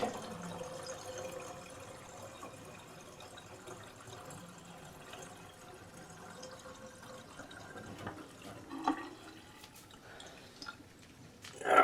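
A household sink drains slowly, giving a soft, close trickle and gurgle of water that stays quiet and steady, with a few brief louder gurgles near the end.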